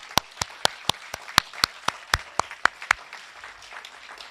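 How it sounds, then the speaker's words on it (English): A small group claps for athletes' parents at a high school senior sports awards ceremony: sharp, distinct claps in an uneven rhythm, a dozen or so, fairly close, trailing off after about three seconds. "Athletes, please give your parents a big round of applause."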